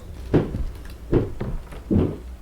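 Creaks and knocks of a door or cupboard moving inside a house with no one touching it, three separate low thuds spaced about a second apart, close and fairly quiet with no talk over them.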